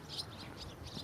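Small birds chirp and tweet beside a canal on a morning walk in Uzbekistan, faint high twitters repeating over quiet outdoor ambience.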